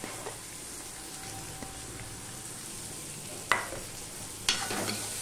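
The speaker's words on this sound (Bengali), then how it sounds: "একটু লাল লাল করে ভেজে নেব। তার সাথে আমি রসুনটুকুও দিয়ে দিলাম।" Chopped garlic fries in a pan of oil while mixed dal is being made, giving a soft, steady sizzle with two sharp clinks of a spoon stirring against the pan near the end.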